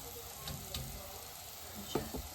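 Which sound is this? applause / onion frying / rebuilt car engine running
onion frying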